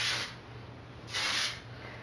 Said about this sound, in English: I'm just spraying the top part